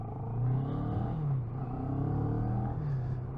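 A 2022 CF Moto 650NK motorcycle engine hums steadily as the bike picks up speed toward 35, a smooth low drone rising slightly in pitch, heard from the rider's position with no talking.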